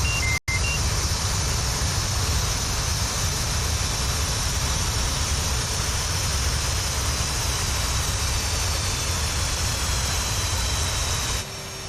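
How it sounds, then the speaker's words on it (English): A twin-engine F/A-18C Hornet in the DCS World flight simulator with its left engine being shut down, a steady broad engine roar holding loud and constant for nearly the whole time, with a brief dropout near the start and a slight drop at the end. "And kill the left engine."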